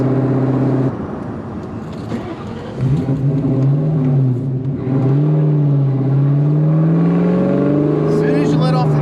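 A 1997 Ford Mustang SVT Cobra engine with a short runner intake revs up high and falls back, loud and close, its pitch rising and dropping across repeated pulls, with some talk partly over it.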